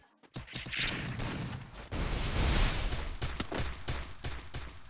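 A Desert Eagle pistol fires in a video game, producing a loud dense burst of gunfire and impact noise that starts abruptly and continues throughout.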